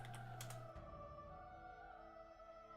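Keyboard typing on a computer, a quick flurry of light key clicks at the start, then quieter steady tones and faint background hum with little further tapping.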